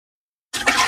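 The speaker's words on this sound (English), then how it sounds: "Just dumping some water that's been caught in this bucket, catching some rainwater off the roof." Caught roof rainwater is tipped out of a bucket in a garden, a sudden splashing gush that starts after silence and pours steadily to the end.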